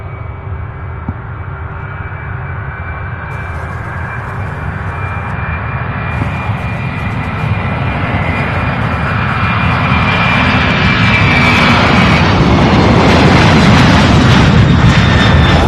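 An aircraft takes off at Louisville International Airport with its landing gear retracting, a jet roar that grows steadily louder and fuller as it passes close, with no voices.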